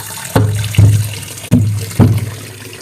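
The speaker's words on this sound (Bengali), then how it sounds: "এবার পেয়ারাগুলোকে ভালো করে জল দিয়ে ধুয়ে নেব।" Guavas being washed in water, four distinct splashy pours or dunks in a steady rhythm, loud and close with no talking.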